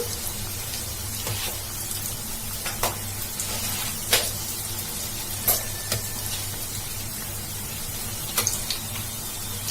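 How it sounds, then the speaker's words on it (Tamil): Bread pieces shallow-frying in hot oil for an evening snack, a steady soft crackling sizzle with occasional sharp pops and faint scraping as they are turned, no voices. "நம்ம இன்னொரு சைடும் இதே மாதிரி திருப்பி விட்டு நல்லா ஃப்ரை பண்ணிக்கலாம்."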